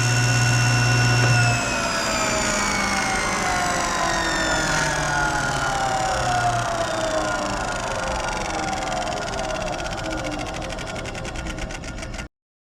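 Table saw motor running loudly and steadily, its whine slowly dropping in pitch as it winds down before cutting off abruptly, with no speech.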